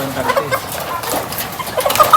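Chickens on a laying farm cluck and squawk near and clearly in short irregular bursts, with several birds overlapping and no talk.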